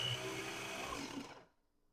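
A small electric food chopper whirs as it chops pieces of food, a steady close motor drone that runs briefly and then cuts off into silence.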